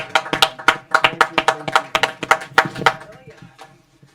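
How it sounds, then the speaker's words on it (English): A small audience at Bird & Beckett claps for an elderly musician, a lively run of close, distinct hand claps that thins out and fades toward the end. "a hearty round of applause so we can give him some flowers while he's with us"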